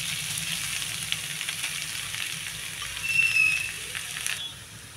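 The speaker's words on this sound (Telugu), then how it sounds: "ఇప్పుడు ఈ నెయ్యిలోనే ఈ క్యారెట్ మొత్తాన్ని వేసి వేగనివ్వండి." Grated carrot frying in ghee in a pan for carrot halwa, a soft steady sizzle and crackle that stays fairly quiet throughout, swelling briefly near the end as it is stirred.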